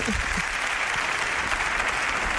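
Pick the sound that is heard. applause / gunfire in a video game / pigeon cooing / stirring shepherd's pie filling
applause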